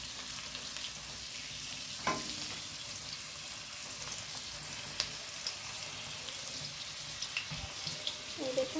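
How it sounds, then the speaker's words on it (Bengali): Vegetables and onion frying in oil in a wok, a steady soft sizzle with occasional stirring clinks and scrapes, close and moderately loud, with no talking. "পেঁয়াজ দিয়ে ভাজছে। এই দেখুন ভেজে দিচ্ছে প্রথমে।"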